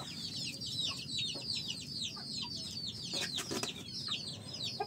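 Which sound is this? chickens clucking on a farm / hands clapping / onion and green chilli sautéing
chickens clucking on a farm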